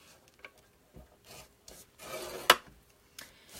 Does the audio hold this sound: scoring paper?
yes